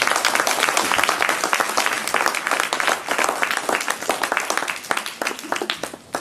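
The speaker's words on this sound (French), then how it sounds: "on va applaudir nos professeurs et nos" Audience applause for teachers and students at a school performance celebrating Stravinsky's Rite of Spring, brisk and fairly loud, with distinct individual claps that thin out and fade toward the end.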